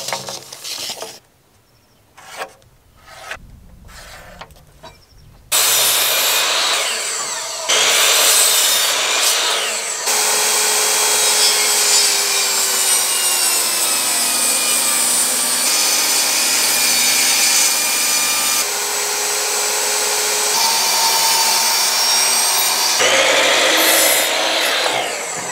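Hand saw cutting through wood for a rustic pipe table, a few short strokes at first and then long steady rasping back-and-forth sawing, close and loud.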